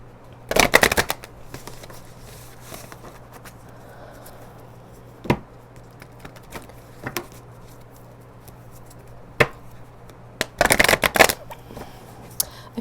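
Oracle and tarot cards being shuffled in two loud riffling bursts near the start and end, with scattered soft card taps and handling sounds between them over a low steady hum.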